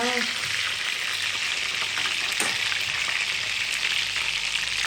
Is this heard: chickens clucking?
no